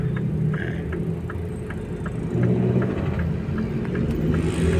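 Road traffic on Kalayaan Avenue in the evening, a steady low rumble of cars and engines passing, with a continuous whir and a slight swell toward the end, no voices.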